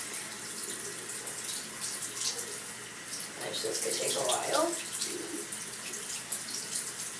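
Cold tap water runs steadily over a makeup brush being rinsed clean in a sink, a continuous soft hiss and splatter that swells midway as the brush is worked, with someone speaking briefly over it.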